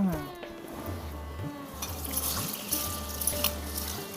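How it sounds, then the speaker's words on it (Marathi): Rice being washed with water in a pot for a chicken biryani on a small wood-fired stove: close sloshing and trickling of water, with a faint voice in the background. "आता आपण तांदूळ धुवून घेऊया"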